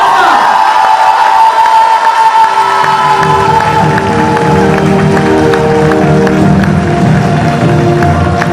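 A convention crowd at a cosplay group contest applauds and cheers loudly for the performers, dense clapping and whoops filling the hall, with music swelling up underneath partway through.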